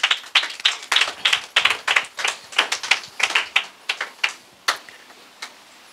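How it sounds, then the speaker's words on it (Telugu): A church congregation claps their hands during a pastor's service: a run of about fifteen sharp, bright claps in an uneven, fairly quick rhythm that thins out toward the end, with no voices. "చప్పట్లు కొట్టలేని వారు మళ్ళా కొట్టండి"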